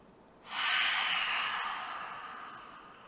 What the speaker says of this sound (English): You have to just breathe in deeply from your navel portion and exhale out from your mouth.